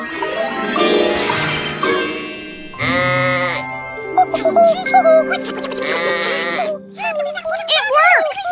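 Sheep bleating in a children's show, with several loud, close wavering bleats breaking up a stretch of bright music and sung or spoken voices.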